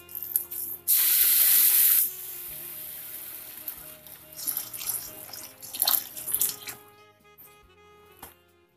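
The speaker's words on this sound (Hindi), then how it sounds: "शक्कर डूबने इतना पानी डालेंगे।" Water poured from a tap into a pot of sugar to make thick syrup for shahi toast, a loud hissing rush for about a second, followed by quieter clinks and kitchen handling sounds.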